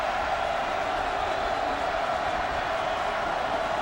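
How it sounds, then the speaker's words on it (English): A football stadium crowd at a South Carolina State versus South Carolina college game roars on the defense on third down, a steady dense wall of distant crowd noise with no clear peaks. "Crowd imploring the defense to make a big play here."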